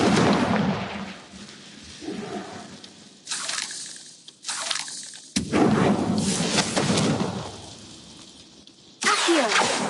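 Confringo blast spell explosions in the Hogwarts Legacy video game, several loud close bursts and rumbling impacts that start suddenly and trail off, separated by brief quieter gaps, with no talking.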